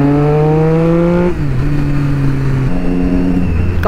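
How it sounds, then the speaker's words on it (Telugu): A Kawasaki sport motorcycle engine, likely a ZX-6R, revs up loudly and close, dips briefly, then climbs again in a rising, whining tone, with no voices over it. "కవాసాకి సౌండ్ చాలా ఎక్కువ వస్తుంది"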